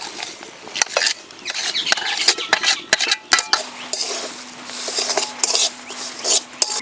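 Semolina being stirred with cashews and raisins in a pan, giving repeated scraping and clinking of a spoon against metal, close and fairly soft, with a steady low background hum and no talk.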